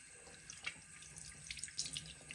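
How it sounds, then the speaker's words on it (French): Tap water runs softly as hands are rinsed free of a coffee and touloucouna oil scrub, a faint, continuous splash with small irregular spatters and no voices. "on rince, ça part facilement"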